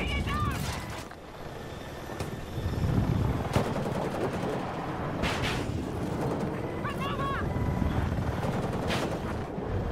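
Continuous rumbling helicopter noise in Battlefield 6 gameplay mixed with bursts of gunfire and explosions, dense and chaotic, with faint voices underneath.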